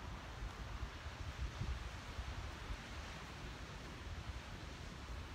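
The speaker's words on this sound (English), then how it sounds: "it's kind of windy up here" Wind sweeps across a coastal walking trail in Rancho Palos Verdes, California, a faint, steady broadband rush buffeting the microphone with soft gusts, no voices present.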